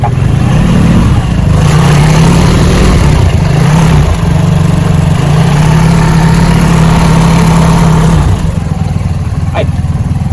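RFI 175 motorcycle engine idling after an oil change, a close, steady low throb with slight pitch wavers, a voice speaking over it.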